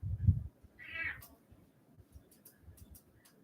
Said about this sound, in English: I heard Kitty. Yep, you heard Kitty.